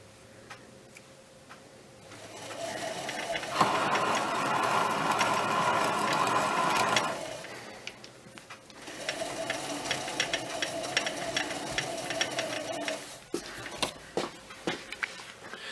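An Emco Compact 5 lathe runs while cutting a thread, making a steady mechanical whir with fast ticking that stops for about a second, then starts again at a lower level before cutting off near the end.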